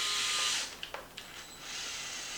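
A power tool drives screws into an XMAXX RC truck's front shock tower: a high whine, a pause with a few small clicks, then the whine again, close up and with no voices.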